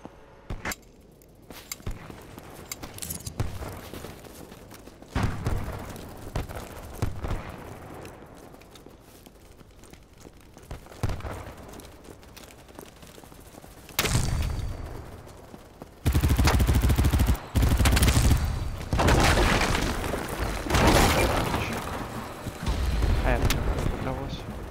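Gunfire in BattleBit Remastered, with scattered shots and automatic bursts in an urban map, some near and loud, others distant. Someone talks between the volleys, and heavy sustained fire comes late on.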